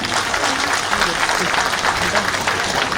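Steady applause from an audience at a Tripura political gathering, dense clapping held at an even level for its whole length with no break.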